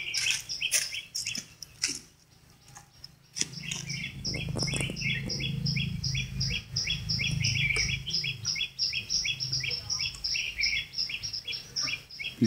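Many small birds chirp and trill in quick, repeated bursts inside a neighbour's bird garden in northern Vietnam, with a continuous chorus of song over low rustling and background noise, no talking.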